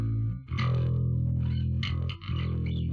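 Bass guitar run through a free analog-style effect plugin, a sustained low, gritty tone with harmonic buzz, briefly dipping twice as notes change, with no talk.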